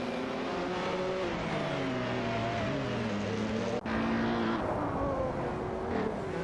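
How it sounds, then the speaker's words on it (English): Several AI race cars in a racing video game roar steadily around the track, their engines droning and shifting pitch together at a constant loud level, with a brief dip midway. "enjoy the AI cars tearing up the track together"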